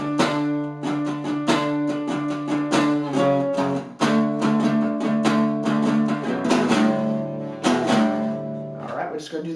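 Guitar playing the fourth part of a song, a steady run of close, loud rhythmic picked chords with short choppy stabs and brief pauses, no talking.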